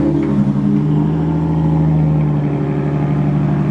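A Lexus IS300 fitted with a 2.5-inch eBay straight-pipe exhaust revs steadily nearby. Its loud, buzzy mid-range drone holds level for several seconds, and no one speaks over it.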